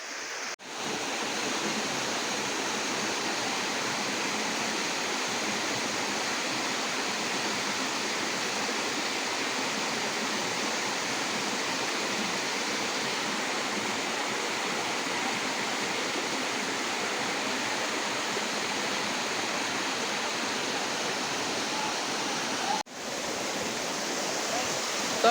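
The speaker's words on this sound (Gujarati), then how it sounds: "આ ધોધની વાત કરે તો 2400 કલાક અનલિમિટેડ પડતો જ રહેશે મિત્રો" A waterfall at Ratanmahal wildlife sanctuary pours over rocks in a steady, dense roar that runs without a break for the whole stretch, loud and close, with no voices.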